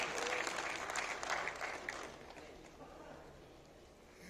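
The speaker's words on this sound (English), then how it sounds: "Please give a big round of applause to the finalists" Applause for quiz finalists at a regional bank quiz in Kolkata, a steady wash of clapping from an indoor audience that is loud at first and then thins and fades toward the end.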